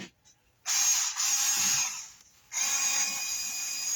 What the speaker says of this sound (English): we're just going to screw it in there